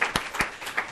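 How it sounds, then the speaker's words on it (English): Audience applause at a policy forum on energy and water conflict, a short burst of scattered hand claps with a few sharper individual claps standing out, moderately loud in a room. "That's a lot of applause."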